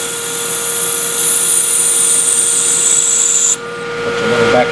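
A metal lathe cuts a flanged part with a parting blade during OD turning, giving a loud, steady machining whine with sustained tones that drop off sharply near the end, then a brief rougher cutting noise.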